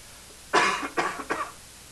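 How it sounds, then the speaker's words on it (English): Three quick coughs from a person during a chemistry class on orbital diagrams, muffled and a little away from the microphone, over faint room noise. "Sorry, didn't want to cough in the microphone."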